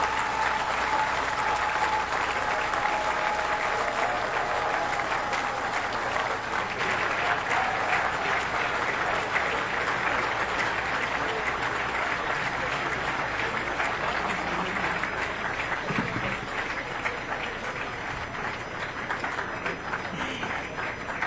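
Sustained applause from a large crowd, dense steady clapping that carries on without a break for the whole stretch.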